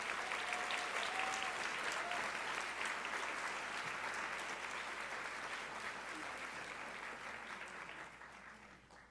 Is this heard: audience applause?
yes